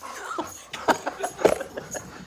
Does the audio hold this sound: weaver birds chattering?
no